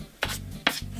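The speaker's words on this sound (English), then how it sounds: "Just gonna do a little light sanding" Light hand sanding of a CNC-cut cherry veneer plywood sign: two short, raspy rubbing strokes close up, with no voices.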